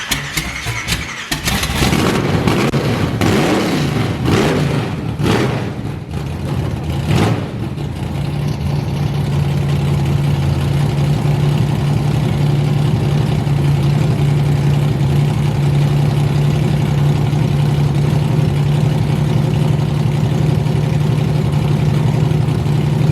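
A nitrous 454 street truck that won't rev: a loud engine blips and falls back unevenly for several seconds, then settles into a steady, rumbling idle that runs close and alone for the rest of the clip.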